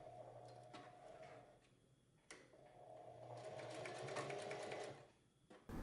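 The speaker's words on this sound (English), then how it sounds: "Start at the top of the horizontal line and sew down to the bottom, carefully back tacking at the beginning and the end." Sewing machine stitching down pleats on a refashioned men's shirt, running in two close, steady bursts with a brief pause and a small click between them.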